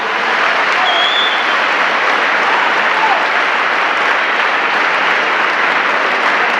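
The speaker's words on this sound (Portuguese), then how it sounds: "Aplauda o Senhor bem forte." A church congregation applauds loudly, a dense, roaring wall of clapping that holds steady and strong from start to finish.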